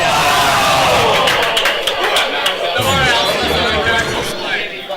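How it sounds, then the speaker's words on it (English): Crowd at a Super Smash Bros. tournament match, Vlade vs Chappos, roars loudly and continuously with shouts and cheering, a dense hubbub of many voices swelling throughout. "Crowd comes in too late with the cheer."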